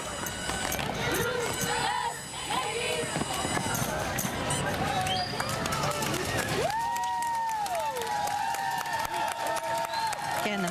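A parade crowd roars and applauds throughout a Marshall High School Naval JROTC drill demonstration, a steady dense wash of cheering and clapping with whistles rising above it partway through.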